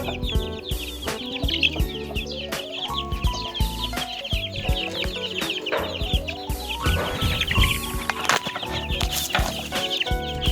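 Chicks on a poultry farm peep in a dense, constant chorus with chicken clucks mixed in, close and busy throughout, with no talk.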